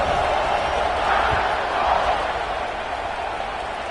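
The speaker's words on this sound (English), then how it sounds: "this crowd is buzzing after that last score." A football stadium crowd buzzes after a score, a broad steady roar of many voices that swells slightly midway and then settles, heard from within the stands.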